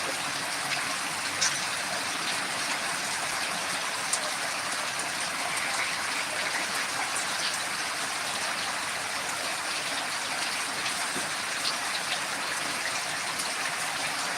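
Steady, dense rain hisses across the whole span after a sudden downpour in a village in Dindigul district, Tamil Nadu, an even wash of drops on surfaces with no break and no voices.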